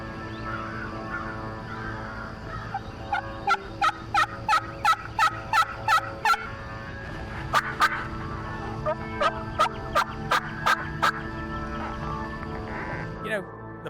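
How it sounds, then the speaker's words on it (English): A wild turkey gobbles repeatedly in the distance during a hunt, rapid rattling bursts carrying over a steady outdoor hum, with a second round of gobbles later. "a few gobbles in the back by the hammock"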